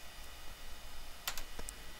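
A computer mouse gives a few sharp, close clicks during Microsoft Word mail merge work, with faint typing-like ticks over quiet room tone and no speech.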